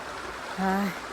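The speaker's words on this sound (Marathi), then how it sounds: "इकडे कपडे धुवून झालेत हे बघा आता बुट धुवायची चालू आहेत" Water runs steadily at close range while clothes and shoes are washed, with a brief tonal, voice-like sound rising over the flow midway.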